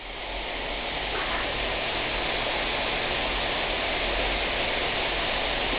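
Lawn sprinklers spray water over grass in a steady, dense hiss like heavy rain, continuous and fairly close, with no voices.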